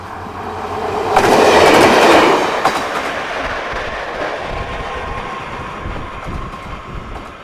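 A passenger train runs along the rails on a long journey from Warsaw across Siberia and Manchuria to Busan, its rumble swelling loudly for a moment then settling into a steady, continuous roll with faint wheel clatter.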